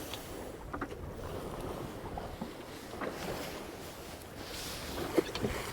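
A 28-foot sailboat moving at about 4 knots at night in a light breeze, with a soft continuous wash of water along the hull, gentle wind noise and a few faint splashes and creaks.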